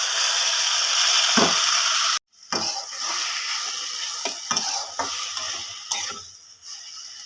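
Pineapple pieces sizzle loudly in hot oil in a pan, a dense steady frying hiss broken by sharp clicks and scrapes of stirring, with a brief silent gap before the sizzle resumes.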